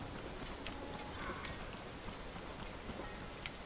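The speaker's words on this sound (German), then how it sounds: "Es regnet zu stark." Steady rain patters in the open world of the video game Zelda: Tears of the Kingdom, a constant wash of hiss with scattered droplet ticks, fairly quiet and without voices.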